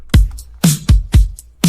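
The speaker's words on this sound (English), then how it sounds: "altogether, the drum loop sounds like this" Layered drum loop blending acoustic and synthetic drums for a pop rock track: punchy kicks and snappy hits land in a steady pattern, loud and close, with no voices.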